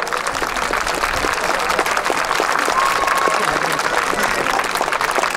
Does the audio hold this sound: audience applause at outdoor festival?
yes